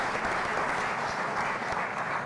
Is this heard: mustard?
no